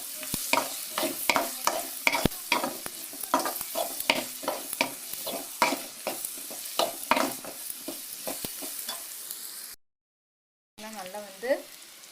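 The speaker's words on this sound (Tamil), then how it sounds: "சேர்த்து இந்த காய் நல்லா வதங்குற வரைக்கும் நல்லா வதக்கிக்கணும்." Vegetables for restaurant-style noodles sautéing with pepper in a hot pan, rapid rhythmic scraping and tossing over a steady sizzle, close and lively, breaking off into a brief silence before a voice speaks.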